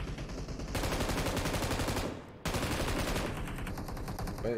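Sustained automatic gunfire in a battle royale shooter, two long dense bursts of rapid shots separated by a brief drop, loud and close with no voices.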